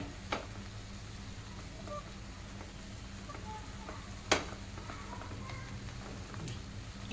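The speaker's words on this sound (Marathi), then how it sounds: "हे बघा, एक साइड चांगली फ्राय झालेली आहे। आता अजून आपण थोडासा मसाला टाकूया।" Butter masala eggs frying in a pan as masala is stirred in, a soft low sizzle under a few sharp utensil knocks and scrapes, close and quiet, with no clear talk.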